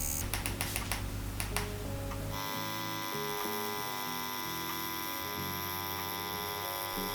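A tattoo machine with a 3-round liner needle on a 4.2 mm stroke, needle set about 4 mm out of the cartridge, gives a steady close electric buzz with a faint clattering onset before settling into an even hum.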